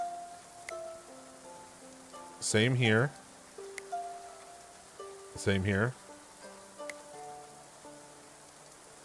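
Steady rain patters through a rainy day in the medieval colony-building video game Going Medieval, a soft continuous hiss running under gentle music, with two brief bursts of speech breaking in.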